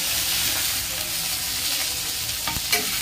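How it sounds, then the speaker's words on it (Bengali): Pieces of rohu fish fry in a pan with a loud, even, close sizzle, and a couple of soft clatters near the end. "বন্ধুরা মাছ ভাজাটা আমার হয়ে গেছে"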